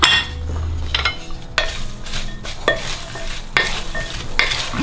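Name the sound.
stirring green chilli pickle ingredients together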